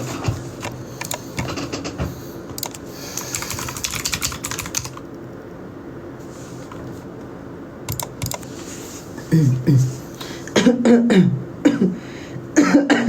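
Several coughs and throat-clearing sounds near the end, following a stretch of rapid keyboard typing and clicking.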